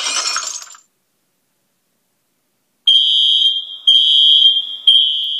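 An iPhone 5C app plays a fire alarm sound: after a brief glassy crash and a pause, a piercing high electronic tone beeps in three long, loud repeated pulses.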